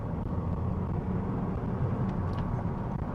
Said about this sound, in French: Alors le moteur gueule pas mal, hein,